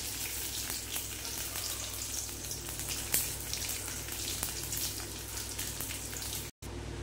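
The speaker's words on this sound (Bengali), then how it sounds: "বন্ধুরা, এখানে ড্রাই ফ্রুটটা একটুখানি ঘিয়ে একটুখানি ভেজে নিচ্ছে" Dry fruits fry in a little ghee, a steady close sizzle with faint crackles running throughout, alone without talk, briefly cutting out near the end.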